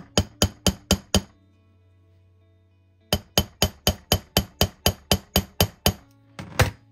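Hammer setting a metal rivet to fix a D-ring on a cicada necklace: two bursts of sharp, evenly spaced metallic taps, a quick run of five, a pause, then a longer run of about fourteen, close and clear.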